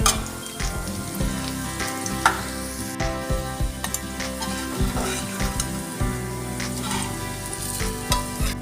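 Sliced onions fry in oil in a pan to a loud, continuous sizzle. Repeated scraping and clattering of a stirring utensil against the pan runs through it, and no voices are heard.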